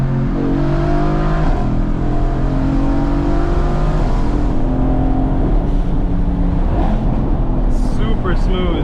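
A tuned 2017 Mercedes-AMG GT with upgraded turbos accelerating hard, its loud engine note climbing steadily in pitch under continuous close roar from inside the car, with brief higher whines late on.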